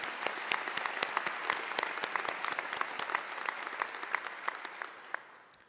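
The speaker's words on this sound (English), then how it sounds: "Please join me in applauding them." Applause for staff at a pharmacy doctoral hooding ceremony, a moderate room of distinct individual claps, fairly distant and steady, tapering off at the end.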